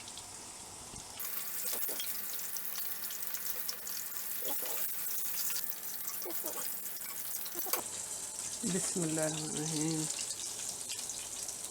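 Fish pieces for a fish burger fry in hot oil with a continuous crackling sizzle, and a voice briefly speaks over it near the end.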